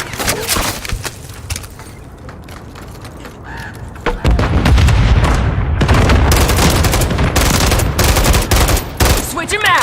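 Heavy gunfire in Call of Duty: Modern Warfare III, rapid automatic bursts and sharp shots with booming blasts, loud and dense, building into sustained fusillades near and far.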